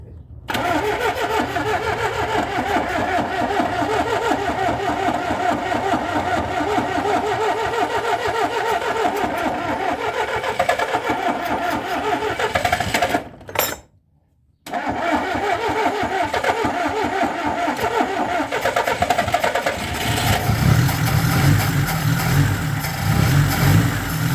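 The engine of a VAZ 21013 car runs and is restarted, a close, steady mid-pitched mechanical hum with a brief cut-out and restart, then a rougher, louder idle toward the end.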